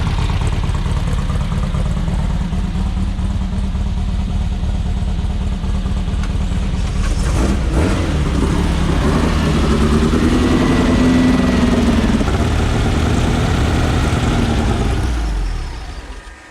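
An engine is started and idles roughly, not firing on all four cylinders, with a loud, uneven, clattering rumble throughout that briefly picks up before cutting off at the end.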